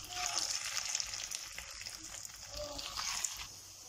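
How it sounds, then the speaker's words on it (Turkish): Cypriot meatballs fry in a pot with a steady, close hiss and crackle of hot oil that swells and fades, accompanied by occasional faint clinks. "Bu şekilde köftelerimizin tamamını kızartıyorum."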